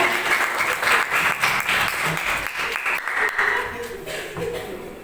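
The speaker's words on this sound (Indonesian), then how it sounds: "kita berikan tepuk tangan untuk mereka berdua" A classroom of students claps for two classmates, a lively scattered applause of many hands that holds steady and tapers slightly, with voices and light laughter mixed in.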